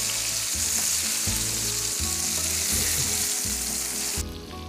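A flour-coated, cheese-filled hamburger patty fries in a pan at an Italian restaurant, giving a loud, constant sizzle with rhythmic scraping or stirring pulses, then a sudden drop near the end.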